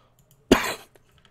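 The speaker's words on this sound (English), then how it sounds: "Got a cough here, guys." A single short, sharp cough from a man comes close to the microphone in a quiet studio, with silence before and after it.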